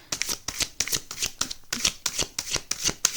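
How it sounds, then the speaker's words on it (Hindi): Tarot cards are shuffled by hand up close, a quick run of crisp riffling bursts repeating in an uneven rhythm, with no talking. "शफलिंग कर रही हूँ, 3 शफल्स करूँगी, आपके कार्ड्स निकालती हूँ"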